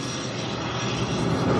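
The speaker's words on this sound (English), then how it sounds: "That sound is the knives in the chopper spinning to a stop." A combine's chopper knives wind down during an early harvest, a loud dense whirring roar that holds steady and swells slightly toward the end.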